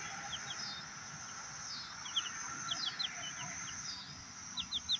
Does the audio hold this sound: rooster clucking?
yes